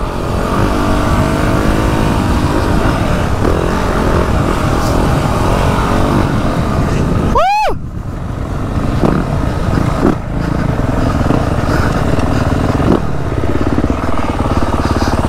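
Dirt bikes race fast past on a motocross track, their engines roaring loudly and continuously with one bike sweeping close by in a sharp rising-then-falling pass.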